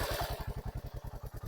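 Royal Enfield Hunter 350 motorcycle (2025) making a rapid, steady pulsing hum at close range, a regular beat of about ten pulses per second held for the full short stretch with no voices.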